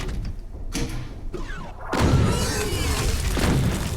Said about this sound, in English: I'm just gonna wipe them out with a rocket